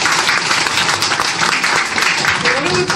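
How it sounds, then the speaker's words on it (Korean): An audience at a book launch claps in a sustained, even round of applause that fills the room, with a murmur of voices running underneath. "다시 한번 여러분께도 큰 박수 부탁드리겠습니다."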